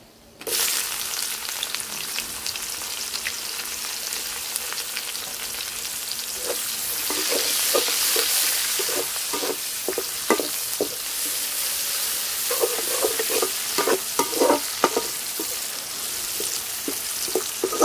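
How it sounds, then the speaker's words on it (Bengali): Chopped onions fry in hot oil with whole spices like bay leaf, cardamom, cinnamon and cloves, a loud steady sizzle broken by repeated scraping stirs of a spatula in the pan. "পেঁয়াজটা আমি হালকা ভাজা নিছি"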